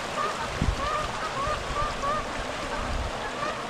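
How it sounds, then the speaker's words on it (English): Distant Canada geese honk repeatedly in a loose rhythm over steady rushing water, faint against the constant wash of the stream. "Oh, bunch of geese."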